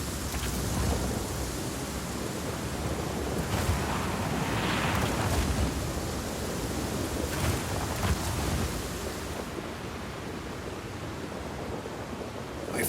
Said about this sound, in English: Storm's rolling in.